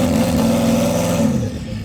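A Koenigsegg CC850 engine rumbles steadily through a large centre-exit exhaust pipe, a loud, sustained revving tone that dips slightly near the end.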